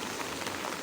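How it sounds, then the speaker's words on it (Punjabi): Heavy monsoon rain near the Beas river in Himachal, a dense steady hiss of falling water filling the whole moment evenly, close and continuous with no voices. "ਦਿਨ ਰਾਤ ਲਗਾਤਾਰ ਮੀਂਹ ਪੈ ਰਿਹਾ।"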